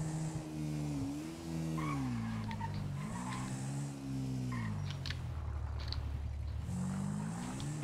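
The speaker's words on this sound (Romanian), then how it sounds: "Aud o mașină." Car driving in the FiveM video game, a steady engine drone with shifting pitch and sustained tire squeal from skidding, fairly loud and continuous with no talk.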